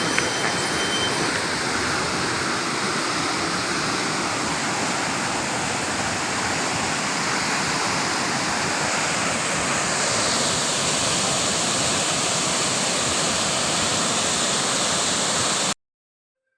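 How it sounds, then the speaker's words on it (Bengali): Hundru waterfall in Jharkhand pours in a continuous, dense roar of falling water, loud and close, unchanging for the whole stretch and heard alone with no voices. "ঝাড়খণ্ড রাজ্যের সবথেকে উচ্চতম জলপ্রপাত হচ্ছে এই হুড্রু জলপ্রপাত"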